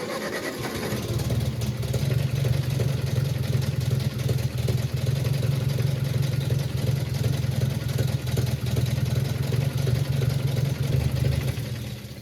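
A 1965 Ford 2000 tractor engine cranks and catches about a second in, then settles into a steady, loud, low-pitched idle that holds evenly to the end with no talking.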